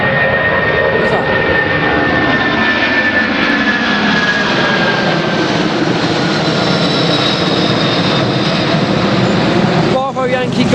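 Boeing 747 jet engines roar steadily in flight, a loud, continuous resonant drone with a slowly shifting whine.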